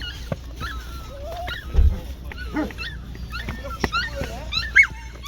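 Puppies at an animal market give high whimpers, whines and short yips, close and repeated, over a background of market noise.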